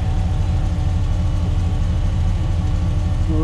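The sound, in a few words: 1987 GMC R1500 Sierra pickup engine running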